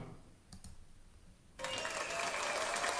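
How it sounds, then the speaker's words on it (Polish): Applause for Mateusz on a weekly satirical talk programme breaks out abruptly after a few soft clicks, then holds as a loud, dense, steady clatter of many hands to the end. "Wielkie brawa dla Mateusza"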